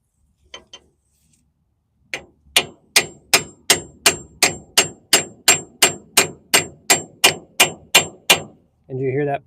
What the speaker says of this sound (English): do you hear that pitch change on the hammer?